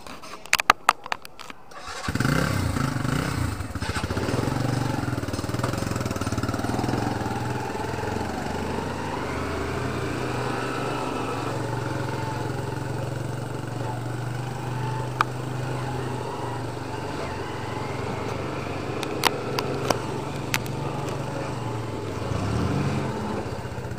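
A new motorcycle engine cranks and catches after a couple of sharp turnover bursts, then settles into a steady, fairly loud idle hum that runs on alone, with a few faint clicks.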